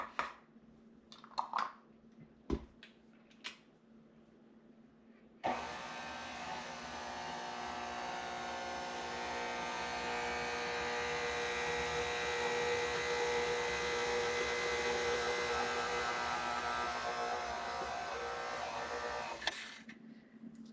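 Electric stand mixer running steadily for about fourteen seconds while mixing lemon basil cookie dough after flour is added, a loud continuous motor whir that starts abruptly and cuts off, preceded by a few clinks and knocks.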